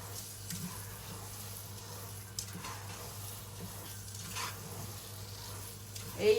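Goat meat for tehari frying in a pot, a soft, steady sizzle running low and continuous with faint stirring scrapes and bits of background noise.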